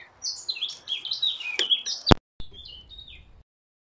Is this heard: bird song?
yes